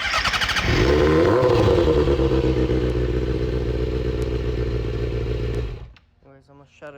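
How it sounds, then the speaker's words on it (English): A Kawasaki ZX6R sport motorcycle under rebuild idles roughly and loudly close by, with an uneven rumbling note that wavers for about six seconds before the engine cuts off, leaving only faint background noise. "It's like really not good. I don't know if it's just the idle or what it could be."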